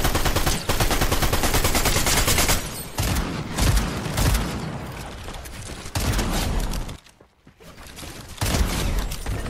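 Rapid gunfire in a Fortnite match: dense, sustained volleys of loud shots with booming impacts fill nearly the whole stretch, with one brief lull before the firing resumes.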